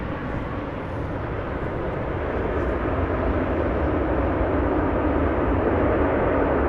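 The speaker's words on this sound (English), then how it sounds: "Nice audio on the reversers." A continuous, loud, broad roar rises slightly as an Icelandair Boeing 737 MAX 8 lands at Amsterdam Schiphol and deploys its thrust reversers.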